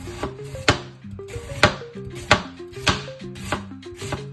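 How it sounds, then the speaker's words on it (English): A knife slices an onion thinly on a cutting board, about eight crisp, close chops at an irregular pace over steady background music. "Have an onion here that we will slice pretty thinly."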